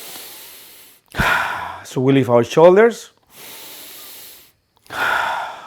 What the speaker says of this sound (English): we start breathing in the chest like this